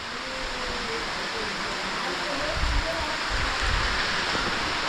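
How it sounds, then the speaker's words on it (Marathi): Steady heavy monsoon rain hisses across the whole clip in a village, with low gusty rumbles swelling in the middle as wind pushes through. "एकदा हवा यायला लागली की मग पाऊस जोर करतो"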